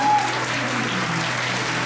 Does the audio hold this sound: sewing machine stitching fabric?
no